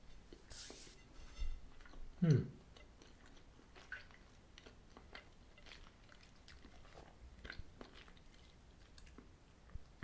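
Someone bites into a chocolate peanut butter Twinkie with a soft sponge cake, giving one sharp bite near the start and then faint, quiet chewing close to the mic.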